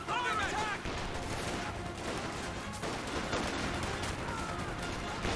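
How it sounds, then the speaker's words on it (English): Dense gunfire barrage in Company of Heroes 2, with MG34 machine guns and infantry rifles rattling in continuous overlapping bursts and cracks, loud and sustained throughout. "sounds like a barrage"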